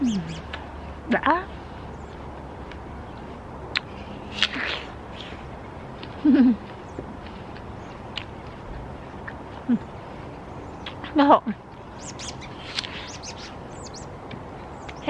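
Birds chirp in short, scattered calls across a garden of artichoke plants, apple trees and peppers, some fairly close and some farther off, with a person talking and eating nearby in between the calls.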